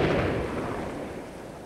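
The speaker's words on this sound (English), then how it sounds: "To show the killing power of a fragmentation mine, Thompson and fellow deminer Gus Mellin detonate one" A fragmentation landmine is detonated by deminers, producing a single deep, booming blast that rumbles and slowly decays over a moment, with no voices.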